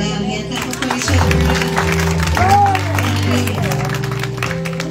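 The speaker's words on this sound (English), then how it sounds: "Now give God a hand clap of praise for the word" A church congregation clapping in praise after a sermon, a broad wash of hand claps blended with sustained organ or keyboard chords and voices, fairly loud and continuous.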